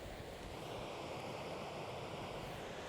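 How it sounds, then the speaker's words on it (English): Waves crash on a Baja California beach at La Bocana in a continuous, broad wash of surf that rolls on without pause and blends with soft wind, fairly faint and steady. "waves crash on the beach."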